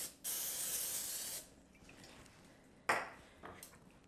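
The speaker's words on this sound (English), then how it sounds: "we're gonna spray our waffle maker so that our waffles don't stick." A long hiss of aerosol cooking spray onto a waffle maker, then a pause and two short quick spritzes, close by with no talking.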